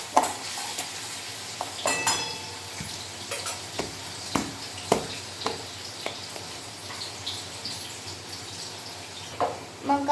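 Potatoes sizzle in hot oil in a kadhai for sabudana khichdi, with repeated scraping stirs knocking at an uneven rhythm over a constant close frying hiss.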